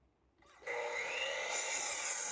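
Power saw cutting wood for garage shelves, a sudden loud continuous whine starting after a moment of near silence and sustaining steadily, close and alone.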